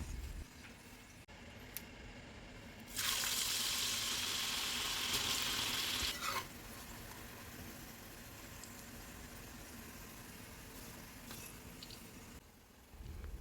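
Shredded potatoes fry crisp in hot oil with a quiet, continuous sizzle that surges louder for about three seconds before settling back to a low crackle.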